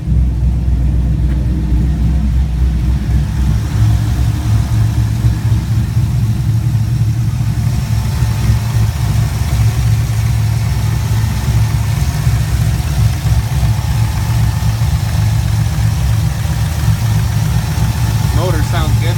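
A 5.3-litre V8 with a TSP stage 4 camshaft, swapped into a 2004 Chevrolet Colorado, idles with a loud, steady, lopey low rumble throughout, while a person talks over it.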